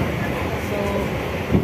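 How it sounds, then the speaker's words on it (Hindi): Local train running on a forest route between Ranchi and Jhalida, a loud, close, steady rumble and rattle of carriages with wind noise throughout the short stretch. "मेरे साथ ये लोकल ट्रेन है,"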